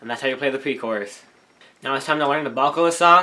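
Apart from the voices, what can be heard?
None of the usual background noises is heard.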